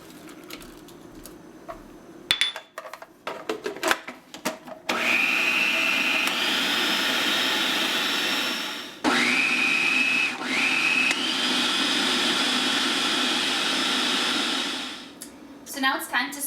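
A food processor whirs steadily through a raw falafel mixture of sunflower seeds and almond meal, running loud and continuous for about ten seconds with a brief pause in the middle, preceded by scattered clatter and handling noises.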